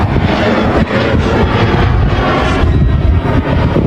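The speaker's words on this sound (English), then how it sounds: "hear an airplane." An airplane passing overhead outdoors, a loud, steady broadband engine roar with rumbling low end and some wind buffeting on the microphone, continuous throughout and with no talking.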